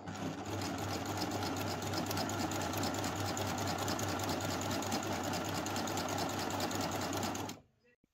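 A three-thread overlock serger with two threads mixed in the loopers stitches steadily, a fast loud mechanical whir with rapid regular clatter that holds for about seven seconds, then stops abruptly.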